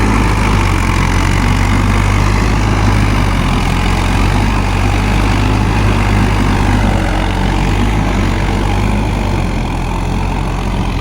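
A Mahindra Yuvo 575 DI tractor engine pulls in first gear at about 1800 rpm, a loud, close, steady diesel rumble that holds unchanged with no voices.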